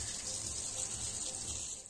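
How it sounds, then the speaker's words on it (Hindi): Water flows from a hose pipe onto tomato plants at night, a steady gushing hiss that stays even and fairly quiet throughout, with no talking. "यहाँ पर मैं पाइप लेके आ चुकी हूँ"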